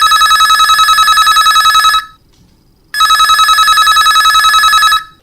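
Telephone ringing on a radio phone-in request show for Chhattisgarhi songs: two loud, close bursts of a warbling electronic ring, each about two seconds long, separated by a short silence.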